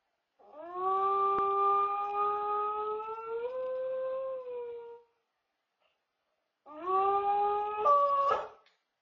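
A dog howls in long, drawn-out wavering tones, caught by a home security camera: one sustained howl, a pause of silence, then a second howl ending in a sharper yelp.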